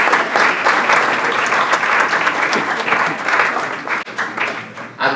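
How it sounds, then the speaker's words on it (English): Steady, dense applause from a banquet audience at an Africa conference awards dinner, honoring an essay prize winner; loud, sustained clapping fills the room, dipping briefly near the end. "Okay, we can clap for him."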